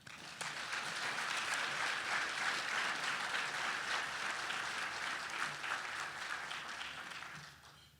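Sustained applause from a conference audience welcoming a speaker at a post-lunch session, a steady dense wash of clapping lasting several seconds before easing off at the end.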